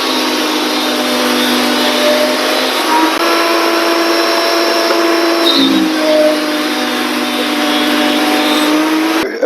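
Lumberjack Pro Series thicknesser planing rough wood, a loud, steady high-pitched motor whine with the cutter block roaring continuously, dipping briefly midway as the board feeds, close up with no voices.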